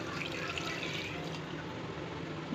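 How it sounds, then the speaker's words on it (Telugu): A glass of water is poured into a pot of mutton curry, making a steady splashing pour close by with no talking. "ఒక గ్లాస్ వాటర్ని యాడ్ చేసుకుంటున్నాను."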